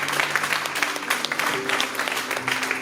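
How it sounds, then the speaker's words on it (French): A church conference audience applauds and cheers for Jesus, with dense, sustained clapping from a large crowd filling a hall, loud and continuous across the moment, with voices mixed into the clapping. "Si vous êtes béni, acclamez pour Jésus"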